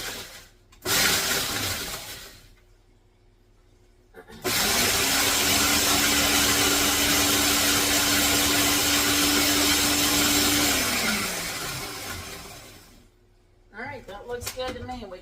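Food processor pulsing cookies into crumbs for a strawberry crunch cake: a short loud burst, then a long steady grinding whir of motor and rattling crumbs that winds down, with brief voices near the end.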